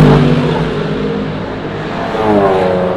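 Naturally aspirated Pagani V12 supercar at the Nürburgring passing close by, a loud continuous engine roar that swells toward the end as it accelerates.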